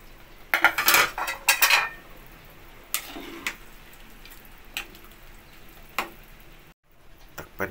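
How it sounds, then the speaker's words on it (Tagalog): Metal utensil clinking and scraping against a pot while stirring ingredients into a thick soup, with a cluster of rapid clatters early on followed by sparse, moderately close taps and scrapes. "At ihalo na natin ang ibang sangkap."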